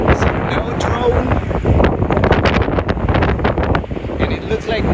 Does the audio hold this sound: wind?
yes